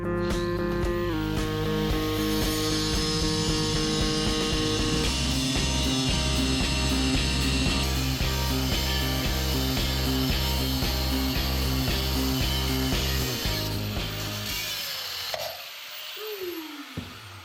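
A saw makes a long diagonal cut through metal tubing, grinding steadily with a rhythmic, harsh chatter at close range before the cut finishes and the noise stops abruptly.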